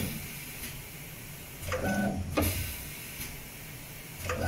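A brush handle pad printing machine with a step motor sliding shuttle and pneumatic components runs, with faint mechanical whirring and a few short clunks and slides.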